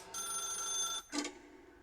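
A telephone rings in The Stanley Parable video game, with one long electronic trill followed by a short second burst, clear and close with no talk.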